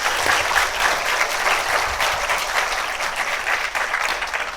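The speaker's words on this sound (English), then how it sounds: "Let's give Ruben a round of applause." An audience applauds after a talk at a panel event on Duterte at the International Criminal Court. The clapping is dense and steady, filling the room for several seconds.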